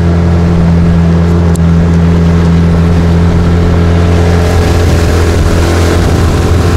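A homemade boat's outboard motor runs steadily at full speed, a loud, continuous drone close by with water and wind rushing over it on a windy day.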